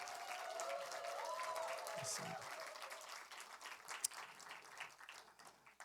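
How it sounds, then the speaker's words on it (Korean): Church congregation applauding during a Sunday worship service, a steady wash of clapping throughout with faint speech over it near the end. "한 분을 향해 한 번 더 격려의 박수를 해야 될 것 같습니다."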